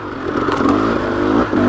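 A KTM 300XC dirt bike revs hard in gear while climbing a steep technical uphill, its engine note rising and falling in a steady, close, loud drone with a short dip near the end.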